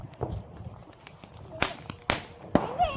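Diwali firecrackers go off outdoors as several sharp, loud bangs at irregular intervals, each followed by a short crackle. Fainter pops sit between them.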